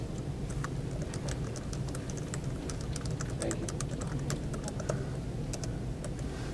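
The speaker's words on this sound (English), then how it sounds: "just typing in the text right into the text area" Continuous typing on a computer keyboard fills the clip, with steady rapid key clicks over a low background hum and no talk.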